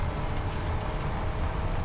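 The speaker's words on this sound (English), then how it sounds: "Here comes a truck." A truck in Satisfactory drives past close by, a steady low rumbling engine and road noise that holds evenly throughout.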